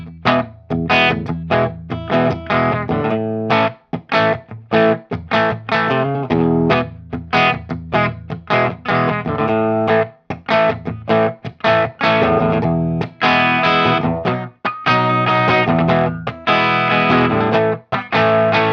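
A guitar riff is played through a 1962 Maestro Fuzz-Tone FZ-1 fuzz pedal, giving a buzzy, heavily distorted tone in choppy, rhythmic phrases, loud and alone for the whole stretch.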